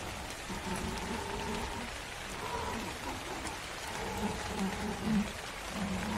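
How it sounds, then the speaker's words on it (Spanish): Rain falling in the survival game ARK, a steady, dense hiss of downpour that stays even throughout, with no one talking over it. "Veis que también llueve."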